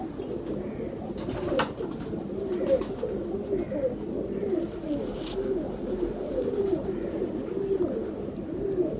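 A pigeon, a Jonsary breed show pigeon, coos repeatedly in low, throaty rolling phrases, steady and close, over faint background noise.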